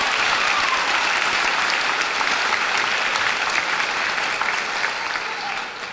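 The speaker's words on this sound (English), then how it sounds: "Give him a round of applause." A graduation audience in a high school ceremony applauds a state-placing golfer and medalist, a dense, steady wash of many hands clapping at even loudness throughout, easing slightly at the very end with no voices over it.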